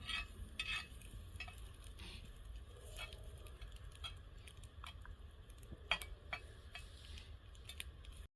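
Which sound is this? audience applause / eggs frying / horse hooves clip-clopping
eggs frying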